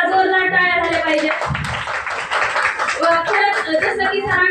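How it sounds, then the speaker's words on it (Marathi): Applause from an audience breaks out in a brisk patter of clapping that sits under a woman's ongoing speech over a PA. "त्यांच्यासाठी एकदा जोरदार टाळ्या झाल्या पाहिजे"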